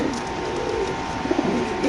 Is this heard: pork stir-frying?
no